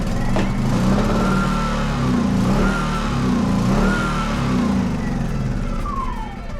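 A generator with a faulty carburetor starts up and runs roughly, a loud, steady engine drone that surges and sags unevenly throughout, heard up close with no talk.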